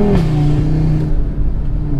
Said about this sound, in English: Nice gear change there.